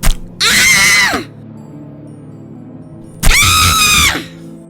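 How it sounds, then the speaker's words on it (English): A woman's piercing horror-story screams come in two long, loud, anguished bursts of nearly a second each, split by a tense pause with a low drone underneath. "Her screams growing with every blow"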